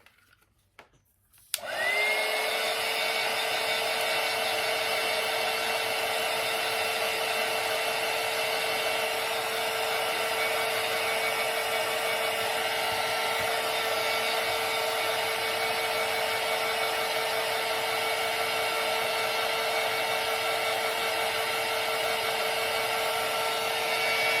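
A hair dryer switches on abruptly and blows steadily at close range with a constant whirring drone, drying a handmade paper and cardstock Christmas ornament, with no talking.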